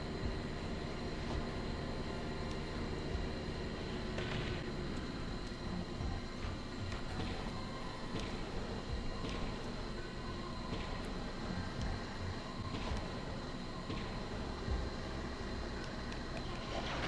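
A boat and a train in the video game Blast Corps make a steady, dense mechanical rumble that runs unbroken throughout, with faint repeated knocks over it.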